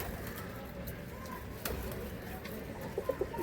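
Pigeons in a Kolkata loft give a few soft coos near the end, low and faint under steady background hum and distant noise.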